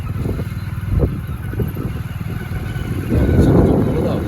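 A motorcycle engine hums and chugs steadily close by as it is ridden. It rises somewhat toward the end, with voices faintly underneath.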